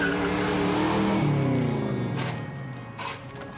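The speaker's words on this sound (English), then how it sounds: "we drive Eleanor just like it's supposed to be driven" The Eleanor Mustang from Gone in 60 Seconds revs hard close by, its engine pitch climbing through a gear and then settling into a lower rumble as it pulls away.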